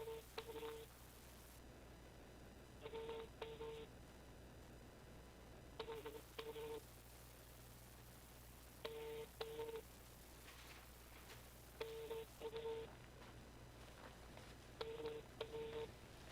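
Telephone keypad tones beep in several short bursts of dialing, spaced a few seconds apart over a low steady hum, faint and close.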